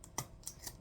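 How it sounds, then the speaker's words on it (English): Three quick, crisp snips of kitchen scissors cutting while fish is prepared, evenly spaced and fairly close, with no talk. "I like these scissors."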